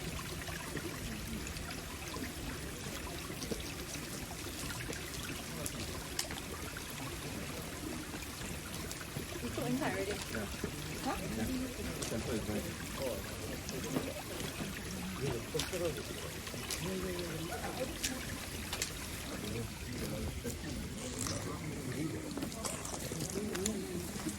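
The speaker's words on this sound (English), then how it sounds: "You can just listen to the water." A small stream of water flows steadily at a Kamakura temple, a soft continuous trickle and babble heard close by over low outdoor background noise, with faint voices in the distance.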